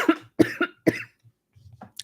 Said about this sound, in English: do I have this cough?